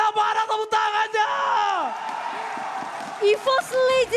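Esports arena crowd at a Mobile Legends MPL match, loud cheers and yells swelling over a commentator's excited talk, with bursts of shouting near the end.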